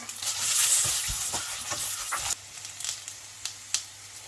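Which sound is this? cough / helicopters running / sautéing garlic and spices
sautéing garlic and spices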